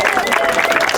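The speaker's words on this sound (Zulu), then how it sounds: "Sibapheni ihlombe bafowethu" Crowd applause at an under-17 tournament, a brief burst of dense clapping with voices mixed in, loud and close.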